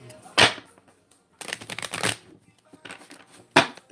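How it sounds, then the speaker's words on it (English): Tarot cards shuffled by hand in a live reading, heard as bursts of riffling and snapping cards separated by short pauses, ending with a sharp slap as cards are drawn and laid down. "I'll be pulling 3 cards for Nader and 3 cards for Deedee."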